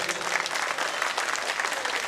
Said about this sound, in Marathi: टाळ्या जरा जोरदार जोरदार जरा होऊन जाऊ देत.